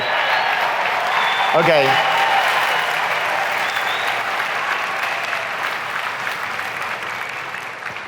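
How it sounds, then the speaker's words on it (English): Loud, sustained clapping from a large conference crowd at a real estate technology keynote, with a brief spoken word near the start and the applause tapering slowly toward the end. "You're really weird about clapping for that as loud as you did"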